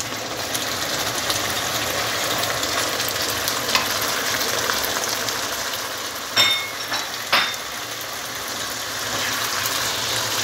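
Green peppers fry in a pan with a steady, even sizzle, broken by two short metallic clinks of a utensil against the pan partway through.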